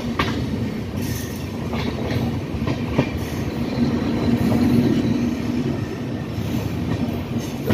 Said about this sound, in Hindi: हमारी ट्रेन उत्सर्ग एक्सप्रेस अब रतनपुरा पहुंच रही है